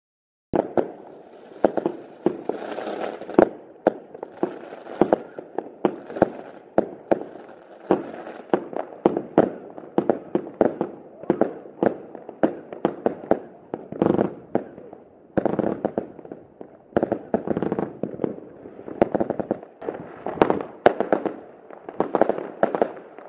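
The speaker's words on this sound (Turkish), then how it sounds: "havai fişekleri dediğim küçük küçük böyle şeyler" Small fireworks left over from the previous year go off at a New Year celebration, a long run of sharp crackling pops and rapid bursts, some clustered and some spaced, fairly close and loud without speech.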